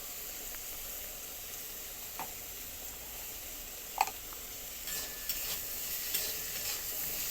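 Spices and eggplant with salt and turmeric fry over low gas in a pan, giving a soft continuous sizzle with occasional light scrapes and taps of a spoon being stirred through.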